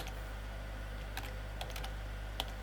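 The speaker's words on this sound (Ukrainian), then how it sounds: "Тому ведемо їх з клавіатури" Keys clacking on a computer keyboard while a Python program is entered, a few scattered close keystrokes over a steady low hum with no talking.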